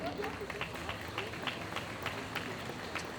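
An audience at a cosplay contest claps steadily, a dense, continuous patter of many hands in a large hall, fairly distant and even throughout.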